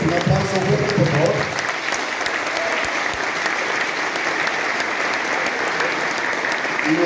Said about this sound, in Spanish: un aplauso fuerte, por favor